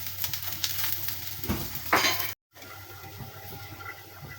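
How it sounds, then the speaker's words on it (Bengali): Whole garlic cloves and a quartered onion fry in a pan with a steady broadband sizzle and occasional stirring scrapes, broken by a brief silent gap midway before the frying resumes. "পেঁয়াজ রসুন একটু লাল লাল করে ভেজে নেব।"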